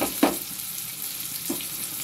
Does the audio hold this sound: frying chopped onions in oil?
yes